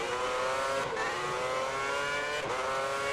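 A Formula One car in the F1 2010 racing game at Bahrain screams at high revs, a steady harmonic engine whine with two brief dips at gear shifts, loud and continuous with no talking.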